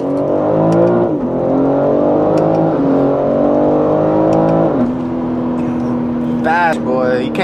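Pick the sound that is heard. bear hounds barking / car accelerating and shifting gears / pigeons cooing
car accelerating and shifting gears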